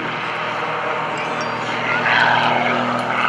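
At an airshow, Mike Wiskus's propeller-driven aerobatic plane drones through a micro loop. A steady, fairly loud engine roar swells slightly toward the end, and voices talk over it.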